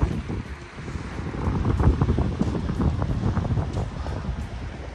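Steady gusting wind buffets the microphone while cycling along the California coast, a continuous rushing roar with no speech.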